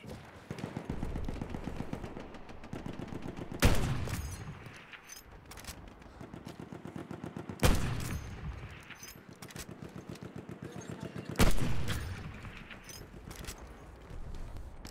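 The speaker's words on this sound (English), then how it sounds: "Machine gun." Battlefield 1 machine gun firing in long rapid bursts, three loud heavy blasts punctuating the steady rattling fire, with quieter pauses between the sustained volleys.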